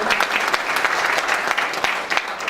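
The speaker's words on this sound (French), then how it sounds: "Vous pouvez l'applaudir." Audience applause at a business event, dense continuous clapping from many hands, steady and fairly loud, with no voices over it.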